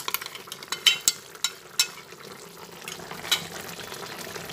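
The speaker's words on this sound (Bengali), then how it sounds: "ভালোভাবে নাড়াচাড়া করে নিই।" Vegetables for Bengali shukto being stirred in a pan after a mustard and poppy seed paste goes in; a spoon scrapes and knocks in a few sharp strokes over a soft, wet simmer, fairly close and quiet.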